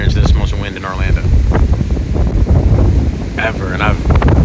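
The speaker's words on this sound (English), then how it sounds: "super windy out here. This is some of the wind." Strong wind roars and buffets a microphone outdoors in Orlando, loud and continuous with gusting surges, while a person talks over the rush of air.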